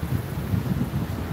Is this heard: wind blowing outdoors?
yes